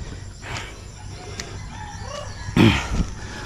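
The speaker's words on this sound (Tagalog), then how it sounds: "nagpapatukan naman sila ng mga manok" Chickens fighting, squawking and clucking in short, agitated bursts, with a louder flurry near the end over faint background noise.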